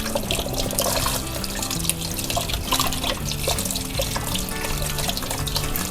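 Sweet potatoes being rinsed under running tap water in a kitchen sink, a steady close splashing and trickling flow that continues without a break and has no voices over it.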